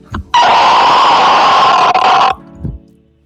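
A loud, harsh demonic screech plays alone for about two seconds, sustained and rasping, with short grunting vocal bursts just before and after it.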